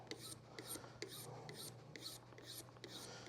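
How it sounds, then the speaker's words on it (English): A file rasps across a new saddle for a Gretsch guitar in about eight even, close, quiet strokes, each a short scraping pass in a steady rhythm. "And now I'm actually going to file this. I'm going to start filing down here and work my way up."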